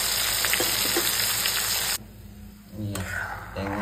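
Fish frying in fish oil gives a loud, close, crackling sizzle that drops away briefly midway and then returns, with no talk over it.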